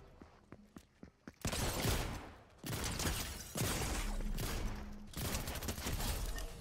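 Rapid machine SMG bursts in Fortnite, fired in several long, loud strings of automatic gunfire broken by short pauses, with a few sharp single shots at the start and game effects underneath.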